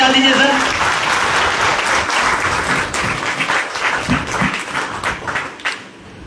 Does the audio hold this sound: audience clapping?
yes